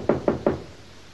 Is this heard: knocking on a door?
yes